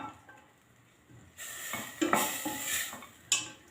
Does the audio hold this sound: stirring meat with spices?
yes